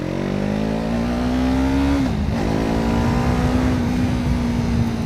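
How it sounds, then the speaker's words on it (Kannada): A Yamaha MT-03 motorcycle with a slipper and assist clutch downshifting: a steady close engine drone rises, dips sharply for a moment as the gear changes, then settles into a smooth even hum, with no speech. "ಡೌನ್ ಶಿಫ್ಟ್ ಅಂತೂ ಎಷ್ಟು ಬೆಣ್ಣೆ ಥರ ಆಗ್ತಾ ಇದೆ"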